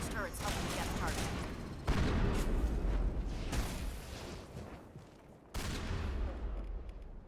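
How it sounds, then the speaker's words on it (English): Sustained crossfire in the sci-fi shooter Mass Effect, dense overlapping gunshots and blasts forming a continuous roar with sudden loud bursts, close and heavy, with a voice faintly present underneath. "Manavai is under coordinated crossfire"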